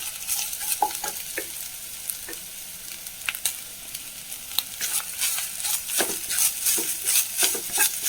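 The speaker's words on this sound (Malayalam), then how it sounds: "നന്നായി വറുത്തെടുക്കട്ടെ" Steady sizzling of small pieces of coconut frying in ghee, broken by repeated scraping and clinking of a spoon stirring the pan, close and moderately loud.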